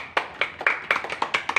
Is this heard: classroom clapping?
yes